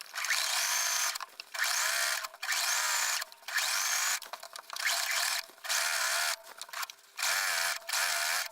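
A sewing machine runs in repeated short bursts, about eight quick whirring stitching runs separated by brief pauses, as a twin needle sews a Peony tank top; close and clear with no talking.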